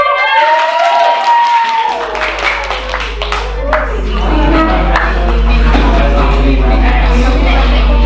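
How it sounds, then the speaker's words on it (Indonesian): Applause in a classroom during a student teaching session, with many hands clapping steadily and densely over a constant low hum. Voices and room noise mix into the clapping, which builds louder toward the end. "Tepuk tangannya."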